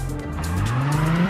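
Car in the video game Cyberpunk braking hard at very high speed, tires squealing in a rising, sustained screech over a steady engine drone, loud and close for the whole moment with no talk.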